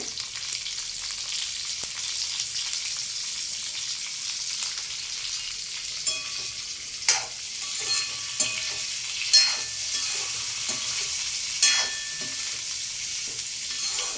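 Vegetables for veg pulao sizzle and fry steadily in a pan, with a continuous bright hiss and occasional louder pops and stirring scrapes, close up and with no talking.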